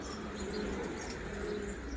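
Pigeons at a loft coo softly and continuously, a low murmuring chorus with faint chirps mixed in.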